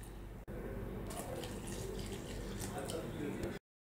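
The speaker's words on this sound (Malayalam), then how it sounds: "ഇനി ഇതിലേക്കൊരു 1/4 കപ്പ് വെള്ളം ഒഴിച്ചു കൊടുക്കുക." A quarter cup of water pours steadily into a mixer jar holding maida flour, egg and salt for Malabar chatti pathiri batter, a continuous soft splashing that runs for a few seconds and stops abruptly.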